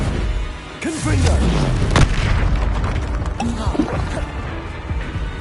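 Spell blasts from the video game Hogwarts Legacy burst out in loud booms and crackles, with a whooshing, gliding magical tone over a dense, continuous battle din.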